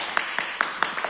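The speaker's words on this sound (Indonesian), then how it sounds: "ini yang bagus, kasih tepuk tangan dulu" A few people in a classroom clap together, around five distinct, fairly sharp claps at a quick, even pace, close and moderately loud.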